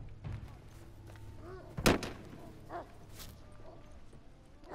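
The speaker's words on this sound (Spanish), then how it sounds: "Me llegan todos los balazos, sobre todo dentro de la casa" Gunfire rings out during play of The Last of Us Remastered, with a few sharp reports at a moderate distance, one louder crack standing out against quiet game ambience and brief speech.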